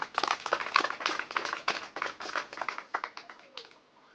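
Scattered applause for village maidens, a small group clapping quickly and irregularly for several seconds, fairly close, with no talking.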